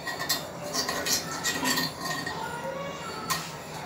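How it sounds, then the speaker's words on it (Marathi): A utensil flipping rava appe in a metal appe pan, with light clinks and scrapes of metal against the pan repeating close by, fairly quiet and without speech. "आता आपण हे उलटवून घ्यायचे आहेत."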